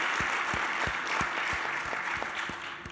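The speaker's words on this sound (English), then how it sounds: "really, everyone should give him a round of applause" Audience applause at a SMPTE 2017 conference talk on media networking, a steady wash of clapping from a seated crowd with a few sharper nearby claps standing out, moderately loud and alone without talk.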